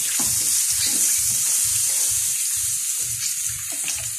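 Breaded pork fries in hot oil for a sweet and sour pork dish, giving a continuous close sizzle with a low, rhythmic bubbling pulse underneath.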